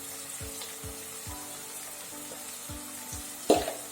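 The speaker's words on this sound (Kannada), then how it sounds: "ಟೊಮೆಟೊ ಕೂಡ ಫ್ರೈ ಆಗಬೇಕು ಎಣ್ಣೆಯಲ್ಲಿ" Tomato and onion frying in oil in a pan for egg curry, a soft steady sizzle with regular clinking stirs of a spoon and a sharper clatter near the end.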